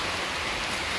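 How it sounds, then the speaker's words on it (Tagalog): Heavy rain falling suddenly, a dense, even hiss of downpour filling the brief moment with no voices. "biglang bumusi malakas na ulan"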